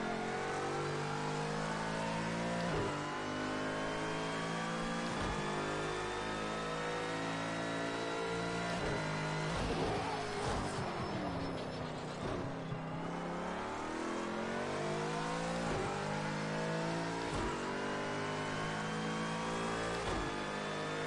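A McLaren GT3 race car in Project Cars 2 revs hard through repeated upshifts and downshifts, its engine note climbing and falling in a steady rhythm, loud and close with no talking.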